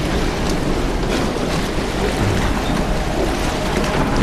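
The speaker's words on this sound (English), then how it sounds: "It has a V8 bus engine, about 330 horsepower or something" Wooden canal boat in Bangkok powered by a V8 diesel bus engine of roughly 330 horsepower, a loud, constant rumbling roar with rushing water and wind noise, no voices.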